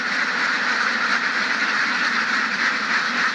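A flock of ducks on a Thai duck farm quacking continuously, a dense, steady clamour of many birds close by with no pauses and no talking.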